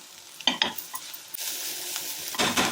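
Onions and spices sauté in a pan before small shark fish goes in, giving a steady sizzle broken by a few sharp scraping stirs of a spatula against the metal, close and fairly loud.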